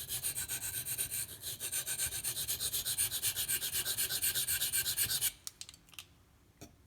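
A Dalton 07 Militia knife blade is drawn rhythmically across Pride Abrasives sharpening stones, with steady repeated rasping strokes close up for about five seconds, then a few scattered scrapes and taps.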